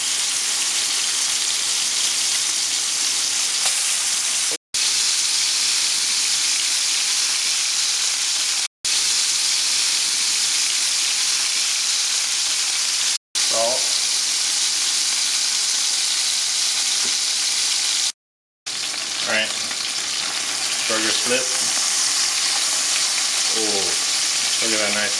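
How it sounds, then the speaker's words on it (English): Burgers sear loudly on a smoking hot pan, giving a dense, steady sizzle close up that drops out in brief gaps, with a voice speaking faintly over it near the end. "Now you're going to take your burgers on this steaming hot, smoking hot pan and down like that."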